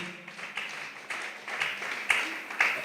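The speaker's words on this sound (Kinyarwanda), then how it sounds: "Amashyi menshi cyane bavandimwe" A gathering of mothers and guests applauds in a hall, scattered rhythmic clapping in short bursts of about half a second, moderately distant and fairly soft, with a few sharper claps near the end.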